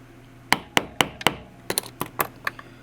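A series of about a dozen sharp, hard knocks, struck in quick irregular groups, as a screwdriver handle pounds on a stuck metal part of a TT-33 pistol trigger assembly up close.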